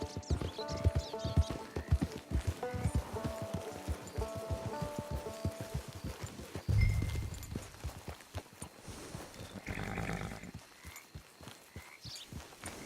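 Horse hooves in a video game clip-clop in a quick steady rhythm on hard ground, with a soft patter of rain behind and a short snort partway through.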